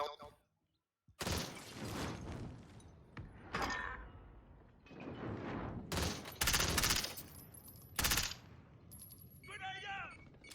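Gunfire rattles through a Warzone match in bursts of rapid shots and single cracks, some loud and close and others farther off, with a voice talking between and under the shooting.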